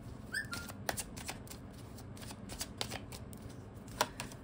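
Tarot cards shuffled and drawn by hand at close range: soft riffling and sliding with a few sharp flicks and taps, quiet and alone without talk.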